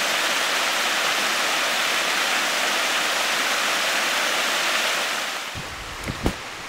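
Salisbury Falls roars as a steady wash of falling water, loud and close for several seconds before easing, with a few soft knocks or footsteps near the end.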